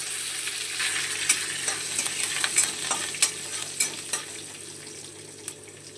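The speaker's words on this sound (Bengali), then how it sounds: "এবারে আমরা কেটে রাখা কাঁচা লঙ্কাটা দিয়ে দিচ্ছি।" Chopped green chillies fry in hot oil with asafoetida, a bright steady sizzle close by, punctuated by repeated scraping taps of a spoon stirring through the pan.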